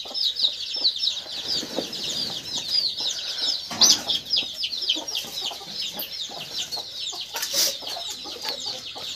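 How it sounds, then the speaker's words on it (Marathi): Hen clucking softly and repeatedly while tending her chicks in a village poultry shed, with high chirps and bird calls all around and a brief rustle or wing flap midway. "ही कोंबडीने काही पिल्लं सांभाळलेली आहेत"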